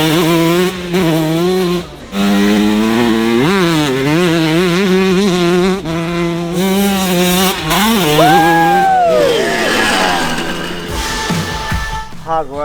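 A 125cc two-stroke dirt bike ridden around a track, its high buzzing engine rising and falling in pitch through gear changes and throttle, close, then fading as another bike passes, with some speech mixed in.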